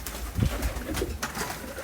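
Pigeons, ambarsariya lal chilli birds kept as a hobby, coo in short low throaty bursts close by, with a few soft calls over a brief stretch and no talk.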